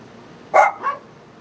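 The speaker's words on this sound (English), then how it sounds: "You're barking in my ear, dude." A dog barks twice close by, one loud bark followed by a softer second one, against a quiet background.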